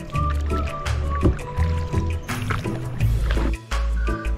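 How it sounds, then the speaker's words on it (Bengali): A rowboat on a river in Bandarban is paddled with an oar, giving repeated watery sloshes and drips over a steady low engine-like hum, close and fairly loud. "জাহিন খুব ভালো বৈঠা পায়।"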